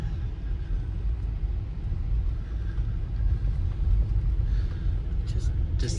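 A rental car rumbles along a rough dirt cart track, its low, continuous engine and tyre drone steady and close throughout, with people talking over it.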